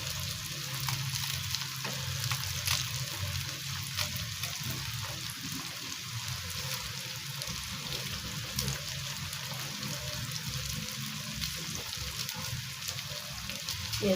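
Green chilies sizzling in hot oil alongside tinda (apple gourd) in a pan, a steady close frying hiss with soft crackles and occasional stirring throughout.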